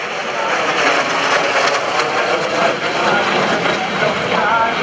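A military jet at the NAS Oceana airshow, heard as a steady, loud, broadband engine roar that holds without a break throughout.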